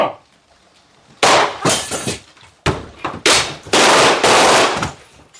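Staged gunfire rings out in a film-set shootout scene, several loud, close bursts of rapid sharp shots separated by brief pauses, with crackling, glassy impacts and no talking.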